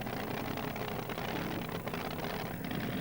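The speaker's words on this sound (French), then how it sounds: "Nightmare, c'est le nom de son tracteur." Engine of Nightmare, a tractor-pulling tractor belonging to a German European champion, running as a dense, loud, continuous roar with a steady gritty drone and no breaks, during a 1996 competition.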